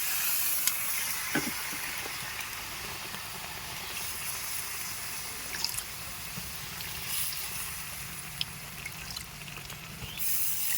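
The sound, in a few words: water poured into pan of chicken and potato curry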